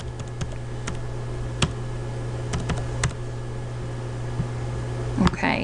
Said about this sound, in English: And please type those in.